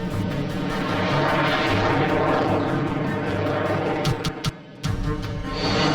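Sukhoi Su-30 fighter jet in flight, a loud, sustained engine roar that holds steady throughout, with a short dip near the end.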